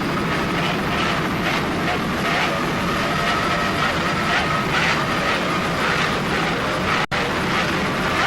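Torco, a 28-foot Douglas Skater powerboat, races in S-Class at the Key West World Championships. Its engines give a steady, loud roar that is far off and hazy, with wind or water wash mixed in and one sharp break near the end.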